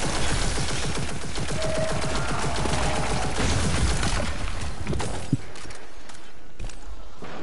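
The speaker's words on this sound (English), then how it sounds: "Something else is shooting at me." Gunfire in the video game Destiny, a dense rapid fusillade of automatic shots at steady loudness that fades into scattered pops near the end.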